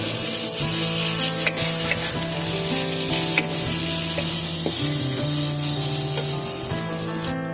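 An egg curry spiced with cumin and coriander powder sizzles loudly in the pan after water goes in, with constant frying hiss and occasional scraping stirs, close up and without any voices.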